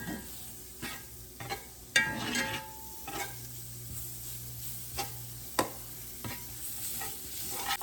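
Flour and mushrooms being stirred in a hot pan for venison Salisbury steak, a soft low sizzle broken by regular scraping and tapping strokes of a utensil, several sharper knocks, no voices.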